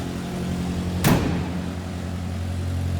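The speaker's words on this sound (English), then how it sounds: "That was a cold start. We're gonna let it warm up here just a little bit, but I thought I'd let you hear it run." A 1946 Crosley two-door sedan with a single carburetor idles after a cold start, a steady low hum broken by one brief sharp burst of noise.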